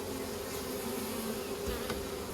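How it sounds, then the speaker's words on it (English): A swarm of honey bees moving into a new hive makes a dense, continuous buzzing drone, close and steady, with no talking. "They're telling everyone, all the bees, to come here, come hither."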